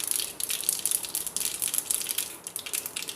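Mustard seeds and urad dal sputter and crackle in hot oil during a tempering for chicken chops, a dense run of bright pops and sizzles that keeps up steadily throughout without any talking.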